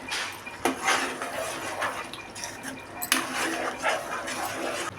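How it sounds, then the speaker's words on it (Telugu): A spoon scrapes and clinks against a pot while dhaba-style paneer curry is stirred after garam masala goes in, with irregular metallic taps and scraping over a steady background. "కొంచెం గరం మసాలా వేసుకొని బాగా మిక్స్ చేసుకోవాలి"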